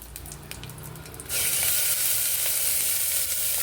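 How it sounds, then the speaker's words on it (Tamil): Coconut-ground kurma masala paste with raw onion hits hot oil in a pressure cooker and erupts into a loud, steady sizzle after a moment of stirring and clinking, sustained close up with no talk. "இந்த வாசனை போகிற அளவுக்கு கொஞ்சம் நேரம் ஃப்ரை பண்ணிக்கலாம்"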